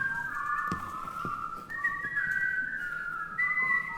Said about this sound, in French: Est-ce que quelqu'un pourrait siffler, s'il vous plaît?